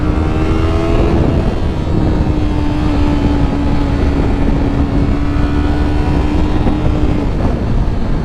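A Yamaha R3 motorcycle engine revs hard at full throttle, loud and close, rising in pitch briefly before holding a steady high drone over constant wind rush.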